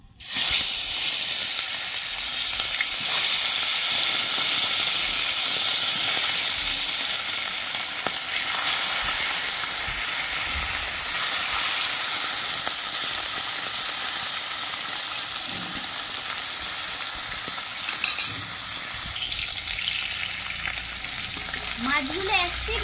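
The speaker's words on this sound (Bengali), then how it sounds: "এবার আমি মাছগুলো ভেজে নেব।" Fish frying in well-heated oil in a wok, a steady, dense sizzle and crackle that holds close and loud throughout with no pause, only small shifts in intensity.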